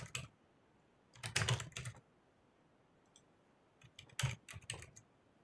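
Two short bursts of typing on a computer keyboard, a quick cluster of close clicking keystrokes, a pause, then a second brief flurry of clicks, with no one speaking.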